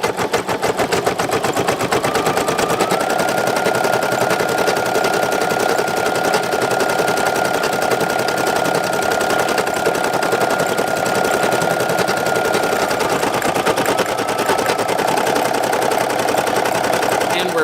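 A Brother SE1900 embroidery machine stitches out a patch with a fast, continuous mechanical needle chatter and steady motor hum, loud and close throughout.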